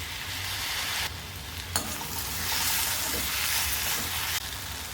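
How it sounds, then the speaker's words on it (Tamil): Onions and tomatoes sautéing in a pan, a steady loud sizzle and frying hiss throughout with a few brief stirring scrapes, no talking. "தக்காளி நல்லா வதங்கிடுச்சுங்க."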